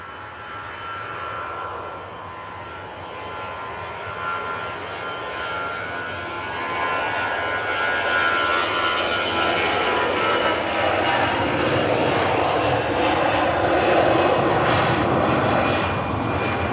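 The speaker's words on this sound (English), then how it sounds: "Airbus A320 departing there with the Sharklets" An EasyJet Airbus A320 fitted with Sharklets departs, its engine roar building steadily from a broad rumble into a louder, sustained jet wash that swells toward the end, heard alone without voices.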